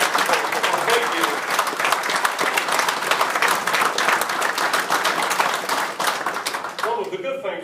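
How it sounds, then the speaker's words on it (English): An audience at a city and county address bursts into a dense, loud round of clapping that holds steady for several seconds before tapering off at the end. "I think she's worthy of a round of applause."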